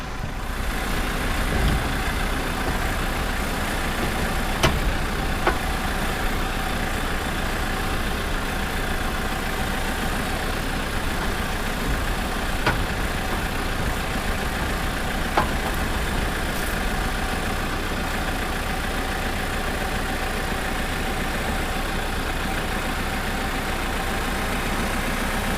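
A tractor engine idles steadily and continuously, a constant mid-low rumble with occasional faint clicks and knocks over it, no voices.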